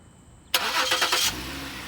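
A 2010 Lincoln MKX with a 3.5-liter V6 is remote-started: quiet hum, then a sudden cranking catch and a brief loud flare that settles into a steady idle.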